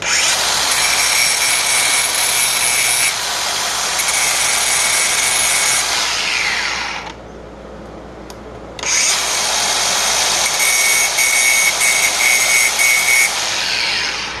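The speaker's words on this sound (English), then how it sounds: "take your grinder, okay? And grind off just the wide parts." An angle grinder cuts away the widened sections of an axle's threads on a 2014 Subaru Forester. Two long, loud, harsh bursts of grinding are split by a short pause.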